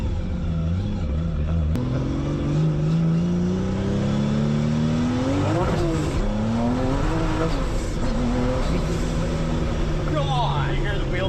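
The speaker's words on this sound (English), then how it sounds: "You hear the wheel spin?" A loud Porsche engine, a Gunther Werks Turbo Mule, roars and climbs in pitch as the tires spin, bouncing off the rev limiter with stuttering revs, heard from nearby over steady road rumble.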